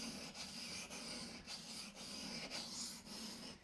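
A bushcraft knife blade rubs in steady back-and-forth strokes across a sharpening stone, a close, fairly quiet rasping with brief pauses roughly every half second.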